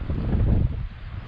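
Wind buffets a microphone outdoors on a lake shore in the Boundary Waters, a loud low rumbling gust that swells, then eases off within a second or so.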